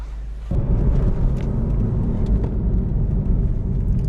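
A 2014 Nissan Juke accelerates at medium throttle, heard from inside: after a brief quiet start, a loud, sustained engine roar and road rumble set in abruptly and hold steady.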